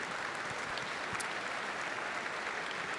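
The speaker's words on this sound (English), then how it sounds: "So just a quick round of applause," Brief, steady applause from an audience at a FIRST Robotics district championship, a quiet wash of clapping heard from a distance.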